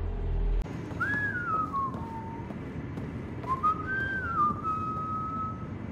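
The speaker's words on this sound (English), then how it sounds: "No whistling." A character whistles in the Mass Effect Andromeda video game, two rising-and-falling whistled phrases, clear and fairly close over a low background hum, with no talking.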